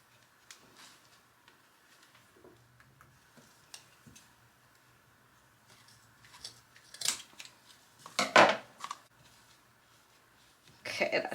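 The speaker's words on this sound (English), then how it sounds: "then I'm gonna cut the rope off" Scissors snip through rope while attaching it to the back of a Dollar Tree cutting board craft, a few brief close crisp cuts near the end amid quiet handling noises.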